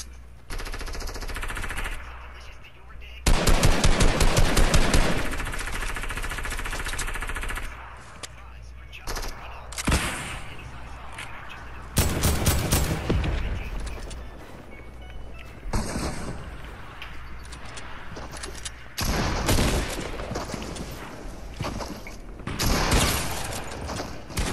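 Loud bursts of automatic machine-gun fire rattle out in repeated volleys, separated by short gaps of lower-level background noise.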